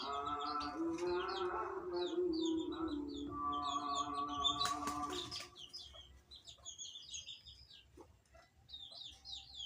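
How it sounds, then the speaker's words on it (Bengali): Chickens clucking and calling as they head into their coop at dusk, a steady stream of close clucks with some higher chirps, and a brief louder squawk in the middle. "মুরগিগুলো ওদের ঘরে ঘরে ঢুকতেছে"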